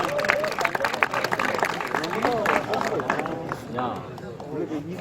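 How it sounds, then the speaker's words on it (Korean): Crowd at a district foot-volleyball association tournament applauding the association president, scattered clapping mixed with chatter and murmuring voices, fairly close and lively, tapering slightly toward the end. "뜨거운 박수 부탁드리겠습니다."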